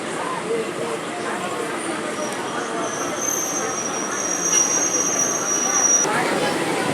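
A WDM 3D diesel locomotive hauling a train rake into a station: steady broad rumble with rail noise and a long high wheel squeal, continuous and fairly near, with faint voices in the background.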